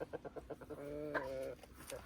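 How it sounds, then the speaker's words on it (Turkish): Red laying hens clucking close by, a run of short rhythmic clucks building into a longer drawn-out call, then a few more clucks, with no talking. "Şu kırmızı tavuktan aldım."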